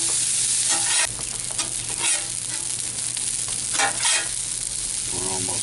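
Pre-cooked gyro meat with lemon juice sizzling on a flat griddle, a continuous frying hiss broken by scraping and stirring strokes from a spatula, close and loud with no talk.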